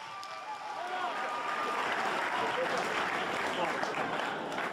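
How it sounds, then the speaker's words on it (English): Steady crowd applause at a combat sports championship fight night, right after a bout, sustained and fairly loud throughout with a broad hiss of many clapping hands. "huge round of applause for these guys"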